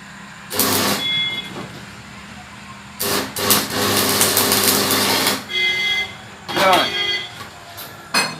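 Arc welding on a pipe with a welding rod at 50 amps gives bursts of harsh, crackling buzz that start and stop several times, loud and close.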